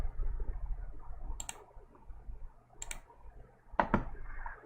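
A few sparse, separate clicks of typing on a computer keyboard, close but faint over a low background hum, with longer pauses between the taps and a quick double click near the end.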